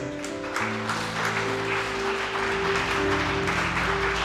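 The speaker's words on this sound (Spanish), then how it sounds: "Denle un fuerte aplauso al Señor." Church congregation clapping during a Spanish-language service, moderately loud and continuous, blended with sustained organ or keyboard chords underneath.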